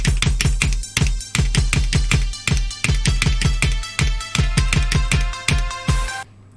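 Level loop from the rhythm game A Dance of Fire and Ice, a steady, fast run of sharp percussive beats with tonal layers on top, loud and driving, ending with a short sustained chord.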